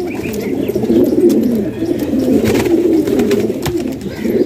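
Fancy pigeons, a Meena pigeon among them, coo in low, rolling, repeated calls close by, with small scuffs and flutters mixed in.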